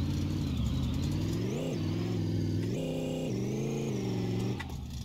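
A car engine in the driving game My Garage revs hard and climbs through the gears, pitch rising, briefly dropping at each shift, then rising again in a loud, steady drone.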